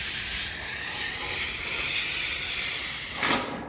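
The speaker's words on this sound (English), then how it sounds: "So your final rinse, you should use a hose nozzle" A standard hose nozzle sprays a steady hiss of water while rinsing a dirty cooling coil, broadband and continuous, with a brief louder splash burst near the end.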